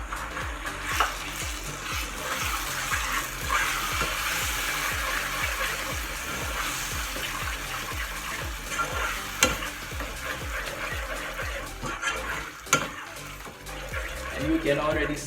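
Ketchup hits caramelized sugar in a pan for Jamaican BBQ wing sauce, giving a steady bubbling sizzle with a rhythmic scrape of stirring throughout, close up, while someone talks over it.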